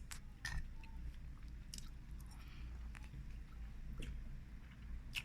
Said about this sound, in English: I'm just sampling my food.